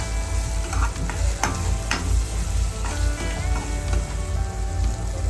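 A pinch of turmeric and salt stirred into spices frying in a pan, with a steady sizzle, scraping and clinking from the spoon, and soft tonal sound running underneath.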